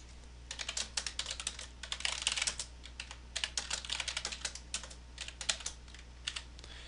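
Rapid, fairly quiet typing on a computer keyboard, a steady run of close key clicks with short pauses, no voices.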